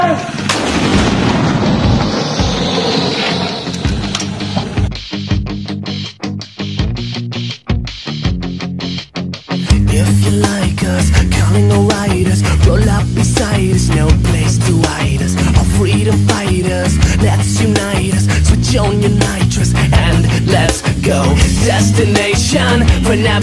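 A 105mm howitzer fires in a run of sharp, loud blasts that come close together. Steady rhythmic music then takes over, with booms still repeating through it.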